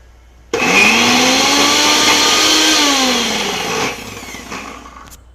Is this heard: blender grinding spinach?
yes